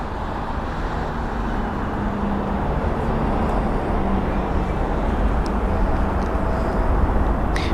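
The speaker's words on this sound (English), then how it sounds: "Here's the Ethiopian A350-900. He's taxiing a bit faster than usual." An Ethiopian Airbus A350-900 taxiing at Heathrow produces a steady, broad jet rumble at a distance, with a faint hum above it and no other clear events.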